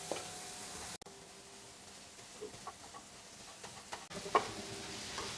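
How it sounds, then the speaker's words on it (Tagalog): Garlic and tomatoes sauté in a pan for a banana heart (ubod ng saging) dish, giving a steady low sizzle with soft scattered stirring clinks, fairly quiet and unbroken by speech. "Ito ay luluto lang muna natin ito hanggang sa malanta yung ating kamatis"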